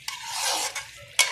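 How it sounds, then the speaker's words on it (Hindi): Chicken being stir-fried in a pan with cauliflower to come, a spoon scraping and stirring in bursts with a soft sizzle underneath, close and fairly quiet, no voices. "इसको जरा अच्छी तरह से हम इस तरह से भून लेंगे"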